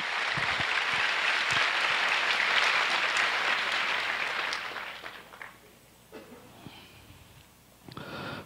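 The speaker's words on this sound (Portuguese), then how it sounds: "vamos dar para Jesus um aplauso por essas duas já" A church congregation claps loudly and steadily for several seconds, then the applause tapers off into quieter scattered sounds before a voice resumes.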